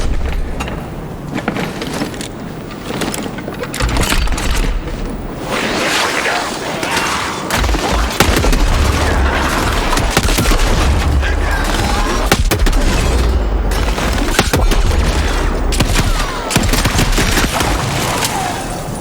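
Weapon fire from the video game Shadow Warrior 3 comes as dense, booming bursts of rapid gunshots with heavy low-end thumps, loud and continuous over nearly twenty seconds.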